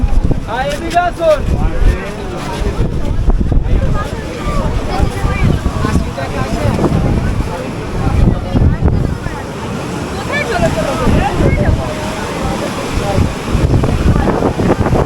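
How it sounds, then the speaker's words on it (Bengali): Ocean surf on Mandarmani beach rolls and washes steadily throughout, with gusty wind buffeting the microphone, and voices talk over the waves. "বেশ ভালো ঢেউ রয়েছে দীঘার মতো ঢেউ মন্দারমণি ঢেউও খুব সুন্দর"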